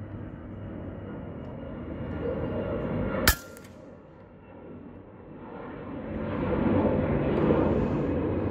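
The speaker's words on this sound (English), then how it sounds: "an airplane in the background." Airplane passing in the background outdoors, a steady distant engine drone that slowly builds, with a sharp airgun shot cracking midway.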